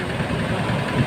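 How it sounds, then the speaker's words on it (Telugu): Fishing boat engine at a beach, running at a steady low idle with a continuous rumbling drone throughout, fairly close and unaccompanied. "ఇంజిన్ స్టార్ట్ చేశాక"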